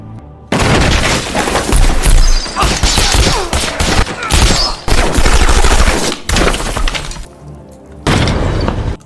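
Film gunfire from two silenced pistols during an attack by guards, loud dense bursts of shots and crashing impacts in several rapid volleys separated by brief pauses.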